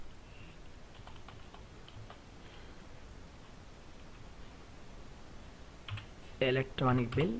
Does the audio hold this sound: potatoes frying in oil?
no